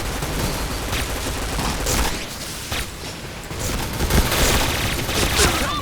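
A shotgun fires rapidly in the online shooter Point Blank, dense overlapping blasts forming a continuous loud barrage of booms with mechanical clatter, close and filling the mix.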